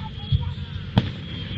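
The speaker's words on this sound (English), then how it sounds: "I'll let you enjoy the fireworks." Two distant fireworks bursts thump a moment apart over a low background rumble.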